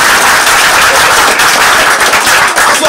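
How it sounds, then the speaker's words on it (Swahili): Loud, dense applause from a crowd for a student at a KBC Radio Taifa school event, a continuous wash of clapping across the whole span with no voices over it. "Makofi kwake jamani"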